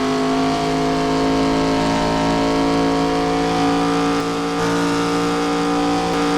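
NASCAR stock cars racing at Texas in the Samsung RadioShack 500, engines roaring in a loud, steady, sustained drone with a slight pitch shift as the cars run past.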